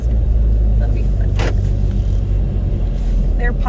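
Car driving on a road, with a steady loud engine and tyre rumble filling the interior throughout and a brief higher whoosh midway.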